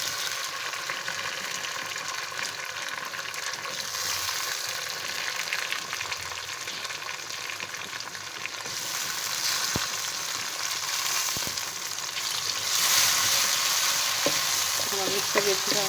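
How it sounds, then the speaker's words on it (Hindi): Tomatoes and onions frying in oil, a steady close sizzle with occasional stirring scrapes and clinks throughout. "हम इसको भी अच्छी तरह से फ्राई कर लेंगे 2 मिनट तक"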